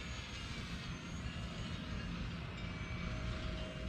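A camera drone flies outdoors in Switzerland, its motors giving a steady, moderately faint whirring hum with a thin tonal whine that holds constant throughout, without talk.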